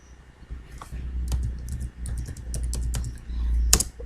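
Rapid typing on a computer keyboard as a reply is written, a close, irregular run of crisp key clicks with a few louder taps, no voices.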